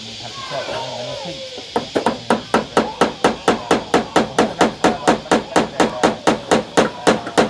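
A hammer pounds to crack something open outdoors, about twenty sharp, evenly spaced blows in a steady rhythm, loud and close, following a moment of voices at the start.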